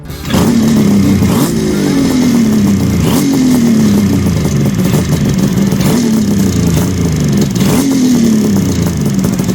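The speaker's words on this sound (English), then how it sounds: "This one's pretty throaty, eh? Fire this one up if you want, Brad." A Kawasaki H2 motorcycle engine revs up to full loudness right after starting, then gives a string of throaty blips over a continuous close, raspy idle, with no voices.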